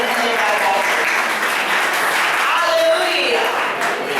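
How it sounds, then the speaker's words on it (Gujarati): A church congregation claps together in a continuous wash of applause lasting the whole stretch, while a voice carries on over the clapping. "તાળી પાડીને ધન્યવાદ આપો."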